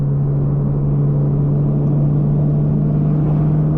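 A Mercedes 190 engine pulling hard on the Nürburgring Nordschleife, heard from onboard as a loud, steady low drone with a constant hum, sustained throughout without a break.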